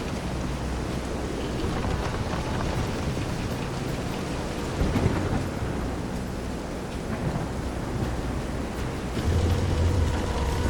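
A storm rages in the Visions of Mana video game, with dense, loud rain hissing continuously, deep thunder rumbling beneath, and waves churning around a pitching boat.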